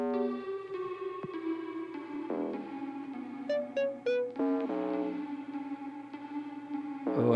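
A K-pop song plays with heavy echo and reverb, a steady beat under layered synths, a few bright stabs ringing out midway, no talking.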